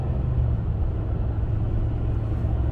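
A 2014 RAM 1500 Laramie pickup's engine drones steadily as it accelerates up through the gears in manual mode, a continuous low rumble with no clear breaks.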